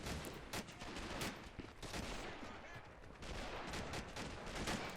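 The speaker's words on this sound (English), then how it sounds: "Are those our mortars or German artillery?" Mortar or artillery fire in a World War II beach-landing video game at Pointe du Hoc, heard as rapid, dense, faint bursts of gunfire and booms with occasional talk.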